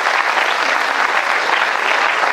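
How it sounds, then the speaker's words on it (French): Steady, close applause from an audience at a good-news gathering in Lyon, an even wash of many hands clapping continuously without letting up for a couple of seconds. "très bien, bah félicitations, on peut l'applaudir."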